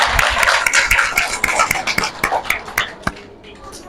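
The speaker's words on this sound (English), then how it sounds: "Very good. Clapping for Umar." A classroom of young children claps for a classmate, with a close burst of quick, uneven hand claps that gradually thins out and fades over a few seconds.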